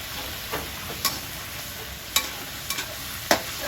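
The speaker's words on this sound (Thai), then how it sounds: "ผัดไปเรื่อยๆเลยค่ะ" Glass noodles with egg and minced pork sizzle in a pan under a steady hiss, with a spatula scraping and tapping in a few sharp strokes, close up and with no talking.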